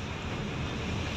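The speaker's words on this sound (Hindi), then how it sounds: "आज हो रही है तेज बारिश, पूरा बारिश हो रही है यहाँ पर पाकुड़ रोड में आमला पड़ा में" Heavy rain pounds a moving TATA truck on a flooded road, a steady dense broadband roar close and loud throughout, with wind-like rushing and no voices.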